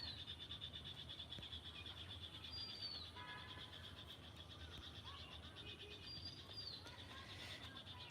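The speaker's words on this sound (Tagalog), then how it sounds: "Ibon din yun, maliit." A small bird gives faint, high chirping calls now and then over a steady outdoor hum of insects and distant ambience in a village.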